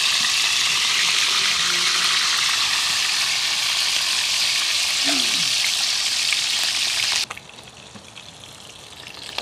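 Food fries in a pan with a loud, dense, continuous sizzle and crackle close up, briefly stirred, before the heat drops and the sizzling fades to a quieter hiss.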